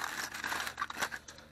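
Tin foil crinkles and tears as it is peeled away from a welded NV4500 input shaft bearing retainer, a close, busy crumpling with sharp rustling bursts that run continuously without any talk.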